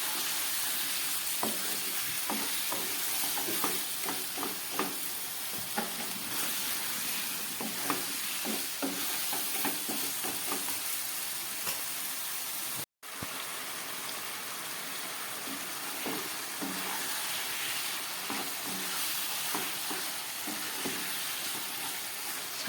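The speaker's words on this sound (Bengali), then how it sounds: "সামান্য মশলার জল দিয়ে আমি খুব ভালো করে এটাকে কষাচ্ছি।" Spiced chicken, cooked with mutton fat and ground spices, is stirred in a pan with a splash of spice water, giving a steady loud sizzle with scraping strokes throughout and a brief cut near the middle.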